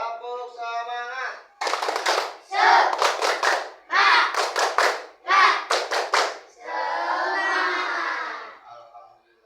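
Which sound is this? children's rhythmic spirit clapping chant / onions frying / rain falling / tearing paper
children's rhythmic spirit clapping chant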